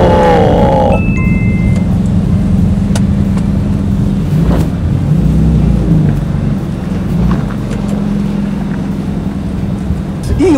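A Ferrari F430 fitted with a Power Craft aftermarket exhaust, revving steadily close by as a loud, deep engine drone that holds for about ten seconds with little change.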